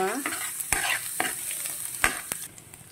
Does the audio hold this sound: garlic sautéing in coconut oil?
yes